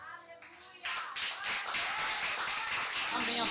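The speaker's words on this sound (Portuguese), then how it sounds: "Aplauda Jesus, igreja." Church congregation at a youth worship service in Setúbal, Portugal, bursting into sustained clapping after a brief spoken lead-in, the dense claps filling the room and holding steady to the end.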